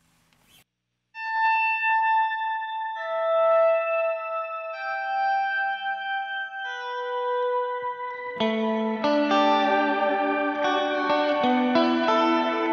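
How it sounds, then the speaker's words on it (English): Guitar through a Keeley Hydra pedal with shimmer reverb, clean sustained notes blooming into a wash with an upper octave rising above them, growing fuller and denser toward the end; a brief murmur from a voice at the start. "We can add that shimmer that everybody likes with the reverb modifier."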